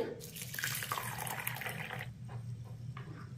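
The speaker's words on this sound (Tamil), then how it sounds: "இப்போ கருப்பு உளுந்தை நம்ம கழுவியாச்சு" Black urad dal lentils are washed in a bowl of water: close, gentle sloshing and splashing with a few drips, a swirling burst that eases into quieter trickles, with no one speaking.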